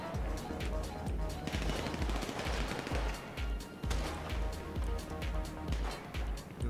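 Sustained gunfire in GTA V's Doomsday Heist finale, with rapid automatic bursts and repeated shots piling up continuously at close range in a dense, loud battle mix, faint voices mixed underneath.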